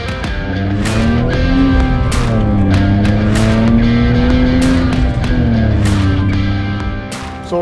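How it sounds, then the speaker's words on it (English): A BMW E46 car engine runs steadily at idle after an oil change, loud and close, with a smooth continuous hum and faint clicks over it. "I can feel the engine is sounding better"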